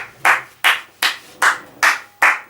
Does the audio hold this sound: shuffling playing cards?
no